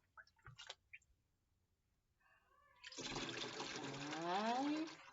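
Water pours out of a measuring cup in a steady, close stream lasting about two seconds, with a rising gurgle as the cup empties, after a few faint knocks and handling sounds.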